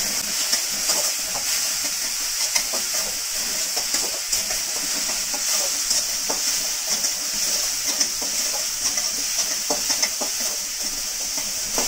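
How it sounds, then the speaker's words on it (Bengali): Garlic fries in a pan and is stirred, giving a steady, bright sizzle with scattered spatula scrapes and clicks. "এবার একটু নেড়ে নেব।"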